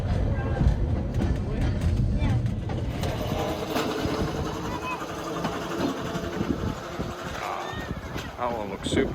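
Riding aboard a Seaton Tramway tram on a bumpy track: a steady low rumble and rattling runs throughout, with muffled voices in the background.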